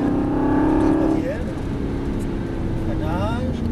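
An Aston Martin V8 Vantage accelerates on a track, its engine drone rising steadily in pitch up close, with someone talking over it.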